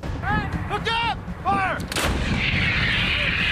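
An M777 howitzer fires a single loud, booming round followed by a long rolling rumble. Whining tonal sounds come just before the blast over a constant low background roar.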